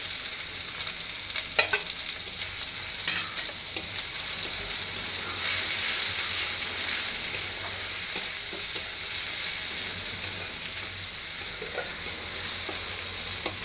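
Ground turmeric, Kashmiri red chili and homemade garam masala sizzle in hot oil in a pan, a steady close hiss with occasional spoon scrapes and stirring taps and no talking.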